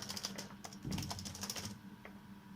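Quick, light tapping on a computer keyboard as remarks are typed into accounting software, a close, soft burst of keystrokes that trails off near the end, with no voices.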